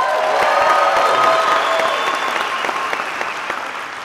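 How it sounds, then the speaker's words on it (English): Audience applauding at the start of Ignite Phoenix number 10, a full burst of crowd clapping that carries evenly for a few seconds and gradually eases. "Round of applause"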